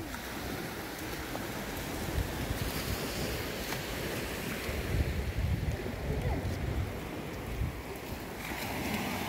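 Ocean waves rolling in along the sea during an early morning walk, a steady broadband wash of surf mixed with wind buffeting the microphone, continuous and fairly loud with no voices.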